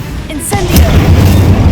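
An Incendio fire spell cast in Hogwarts Legacy bursts out as a loud, close whoosh-boom, then trails into a rumbling fiery roar that holds steady to the end.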